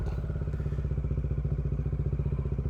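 A Bajaj Dominar 400 motorcycle engine chugs close and loud in a fast, even, low-pitched rhythm while riding, with no talking over it.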